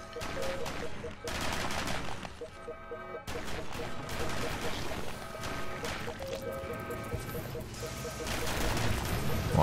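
Rapid, repeated sniper rifle gunfire from Fallout Shelter vault dwellers fighting a rat scorpion, dense and continuous over a busy game score.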